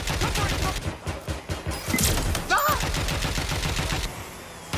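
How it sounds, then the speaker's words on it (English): Rapid automatic gunfire in the Watch Dogs: Legion video game, dense overlapping bursts of loud shots pounding continuously with a voice briefly shouting over the firefight. "Taking fire!"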